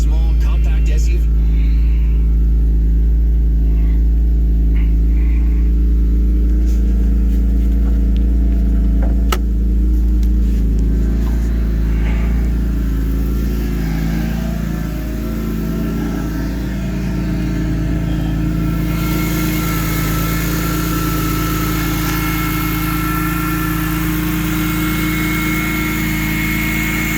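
A 2005 BMW M3 ZCP starts cold, its engine holding a loud, steady low rumble at idle that shifts slightly in tone partway through.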